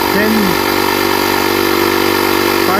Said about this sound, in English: That's really fast for a small compressor.